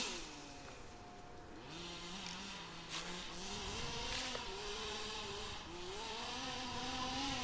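An HPI Baja 5B large-scale RC car makes a flyby on a local track, its high engine whine rising and falling in pitch as it accelerates past and keeps revving, fairly close and continuous.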